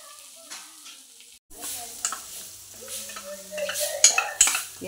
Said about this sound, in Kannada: ಕಡೆದಿಟ್ಟ ಮಸಾಲೆ ಹಾಕಬೇಕು, ಆಮೇಲೆ ಫ್ರೈ ಮಾಡಬೇಕು.